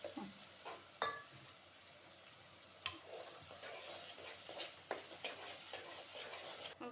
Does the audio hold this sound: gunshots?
no